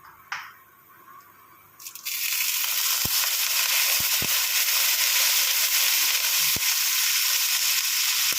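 Curry leaves drop into hot oil for Sindhi curry, setting off a sudden loud, steady hiss of sizzling after a quiet start, with a few faint clicks from the pan, close up.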